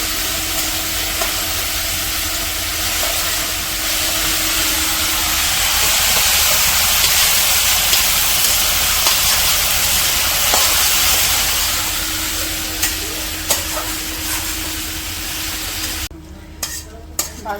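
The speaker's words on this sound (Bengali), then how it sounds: "ভিন্ডিগুলো ভাইজে নেই, মরিচ, তারপর গুঁড়া মশলা সব কিছু দিয়ে নিচ্ছি।" Okra frying with chili and ground spices in hot oil, a loud continuous sizzle and hiss close up with occasional scraping stirs, tapering off near the end.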